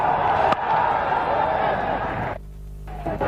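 Broad, steady roar of a noisy crowd at the Sydney Cricket Ground during a 1992 World Cup cricket match between Pakistan and India, continuous and loud before dropping away near the end.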